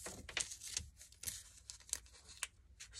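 Vellum paper edges being trimmed straight, giving soft crisp slicing and crinkling strokes in quick irregular succession, faint and close with no voices.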